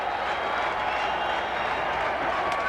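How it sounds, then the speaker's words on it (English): A packed ballpark crowd hums and applauds steadily through the 1988 American League Championship Series game between the Boston Red Sox and Oakland Athletics, a dense continuous roar heard from within the stands. "the crowd's starting to buzz"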